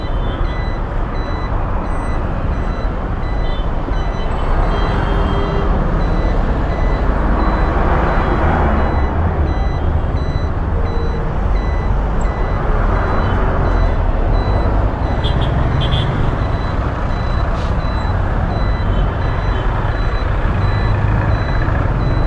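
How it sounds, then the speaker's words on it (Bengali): A traffic jam on a Dhaka road is heard from a motorbike in the thick of it, with a loud continuous rumble of trucks and engines and reversing beeps sounding repeatedly over the din. "জ্যামে পড়ে গেলাম।"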